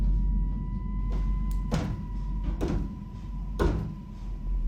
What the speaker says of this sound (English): Okay, I've been hearing banging for a good little while now. It comes from the bathroom door over there and then from the front.